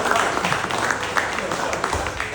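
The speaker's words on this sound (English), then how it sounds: "Let's give him a clap for the Dato-ship that it was there." Audience in a lecture hall clapping in honour of a professor newly made a Dato, a steady wash of many hands at moderate level, fairly close and continuous throughout.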